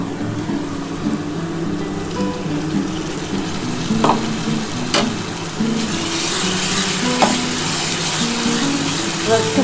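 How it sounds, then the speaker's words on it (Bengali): Spice paste fries in a pan with a little water added, a loud continuous sizzle and bubbling with stirring scrapes and brief clinks, growing slightly brighter toward the end. "ভালো করে মশলাটার সাথে কষিয়ে নিই"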